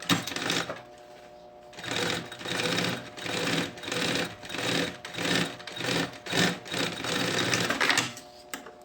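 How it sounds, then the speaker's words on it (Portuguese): A sewing machine stitches a fabric backpack panel in a series of whirring bursts, each a couple of seconds long with short pauses between, close and fairly loud. "vou passar um pé de máquina"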